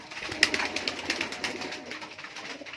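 Pigeons, including high-flying breeds, coo and flutter close by in a short burst of soft repeated calls, with one sharper note near the start.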